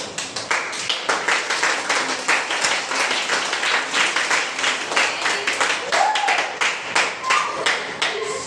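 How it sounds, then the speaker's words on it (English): Students at a school entrepreneurship workshop clapping for themselves, loud, close, rhythmic group claps in a quick steady beat, with some voices mixed in. "So it's a big loud applause to you all, right? So how do you clap for yourself?"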